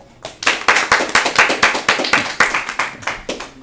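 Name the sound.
clapping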